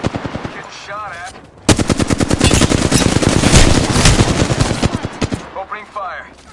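Rapid automatic gunfire from a multiplayer shooter video game, loud and sustained bursts of machine-gun fire that dominate the middle of the clip, with brief speech before and after.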